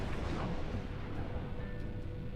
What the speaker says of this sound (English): An explosion sounded nearby.